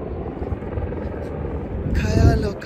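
A helicopter at the landing place in Kedarnath drones steadily beneath crowd noise and nearby voices, its rotor roar swelling louder toward the end.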